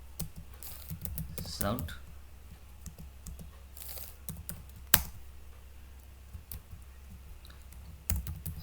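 Java code being typed on a computer keyboard, a steady run of quiet, close key clicks with a few louder taps, while someone talks over it.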